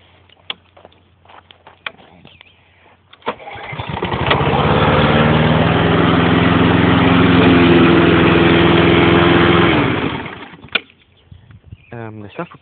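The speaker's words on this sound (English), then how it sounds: "Now, one thing about this motor, it's a really, really quiet motor." A cheap self-propelled lawn mower's engine starts and runs steadily for about seven seconds with a low, even hum, then cuts off, leaving faint rustling and handling noises before and after.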